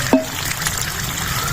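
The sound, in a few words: water poured into pressure cooker with turnips and meat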